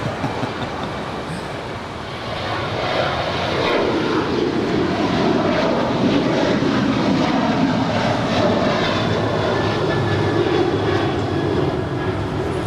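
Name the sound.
airplane taking off from LAX runway 25 right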